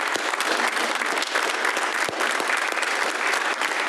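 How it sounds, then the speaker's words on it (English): Steady applause from the audience at a city council meeting, a continuous even patter of many hands clapping without pause from start to finish. "Let's give Mr. Honey a large round of applause"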